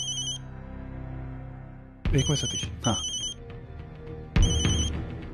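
A telephone rings indoors in a Hindi TV drama scene, sharp bursts of an electronic bell sounding close and loud, alternating with a man's speech between the rings.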